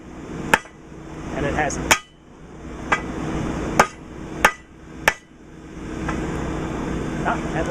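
Hammer strikes ring out on a forge-welded steel joint on a ranch, six sharp metallic hits at uneven intervals over a steady background hum, with a brief bit of speech.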